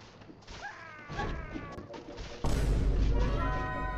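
A bomber zombie attacks in Guts & Blackpowder, and a sudden loud blast cuts in partway through, followed by sustained noisy clatter after quieter game sounds and excited voices talking.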